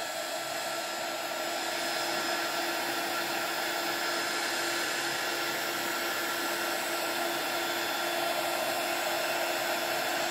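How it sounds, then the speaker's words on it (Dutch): A hot air blower, a hair-dryer-style heat gun, runs steadily while drying paint for a painted background, giving a continuous close whooshing hiss and fan drone throughout with no talk. "Dus je pakt je hete luchtblazer."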